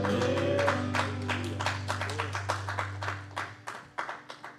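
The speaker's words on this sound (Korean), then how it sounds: "힘차게 박수 치시면서 우리 주님의 보혈을 찬양하도록 합시다" A congregation at a Friday worship service at LA Vision Church claps in a firm, even rhythm over a sustained musical tone, the claps growing sharper and more separate as the music fades.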